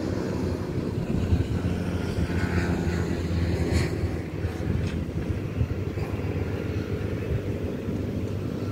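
A model airplane engine runs steadily at an aeromodelling field near BSD City airport, a continuous low buzzing drone that holds level throughout with no voices over it.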